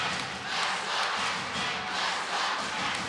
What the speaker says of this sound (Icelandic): Og þarna heyrir þið í norðlensku áhorfendunum.